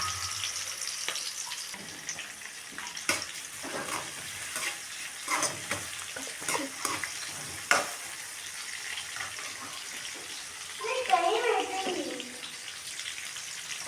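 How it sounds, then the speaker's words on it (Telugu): Onions frying in oil in a pan for a Nellore chicken curry give a soft, continuous sizzle with scattered stirring scrapes, and a voice speaks briefly near the end. "కొంచెం నూనె యాడ్ చేసుకున్నాను. ఆనియన్స్ వేసుకున్నాను."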